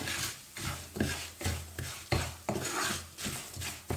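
A spoon scrapes and stirs a leftover idli upma mixture in a pan, making rhythmic close scraping strokes about twice a second.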